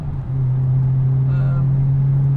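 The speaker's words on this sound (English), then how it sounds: "Exhaust is a bit loud if I'm honest with you. You probably can hear it yourself" A loud, steady low exhaust drone from a cruising BMW 320i E93 M Sport with a 2-litre engine, a constant deep hum with a faint rise in tone partway through.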